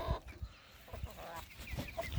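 Hens and roosters clucking in a coop with short bursts of poultry chatter, repeated irregular calls at moderate distance.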